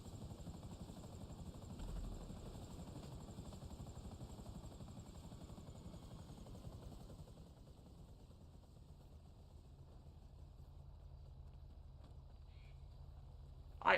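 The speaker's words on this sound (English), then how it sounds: "We could use this helicopter after." Helicopter in GTA Online, a steady rotor chop and engine drone that runs throughout at moderate level, fairly close, with a sharp burst of noise right at the end.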